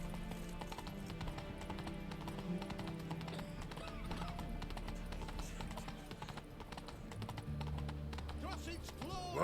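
Horse hooves clip-clop steadily in The Witcher 3, a rhythmic patter of footfalls under game music and ambience, with speech around them.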